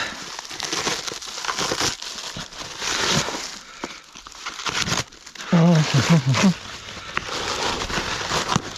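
A packaged parcel of Fendt tractor parts is torn open, giving close crinkling and rustling of packaging in uneven bursts, with someone briefly speaking.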